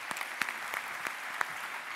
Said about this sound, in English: you're going to clap massively loudly